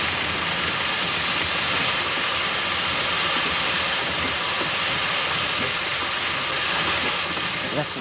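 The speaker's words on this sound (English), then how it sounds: "That's the trouble with these lovely old steam engines." An old steam engine at a steam ploughing event runs with a steady loud hiss and broadband roar, unbroken for eight seconds.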